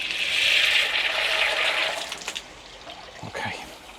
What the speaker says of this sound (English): Put some more water in that.